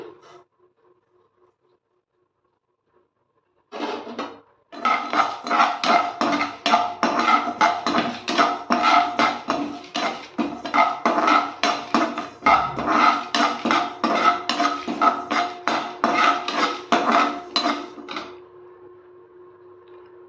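Dry-roasted puliyodharai ingredients rattle and scrape in a pan for about fourteen seconds of dense, continuous stirring. The sound is close up with no talking, and a brief pause comes before it settles into steady motion.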